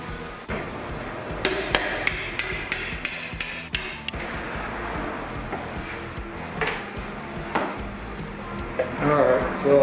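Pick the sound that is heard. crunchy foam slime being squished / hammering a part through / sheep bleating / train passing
hammering a part through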